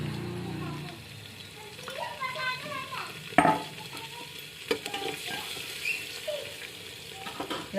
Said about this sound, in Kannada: ಆಮೇಲೆ ಇದಕ್ಕೆ ನಾನು ಇವಾಗ ಬೆಳ್ಳುಳ್ಳಿ ಹಾಕ್ಲಾಗತ್ತೀನಿ ನೋಡಿರಿ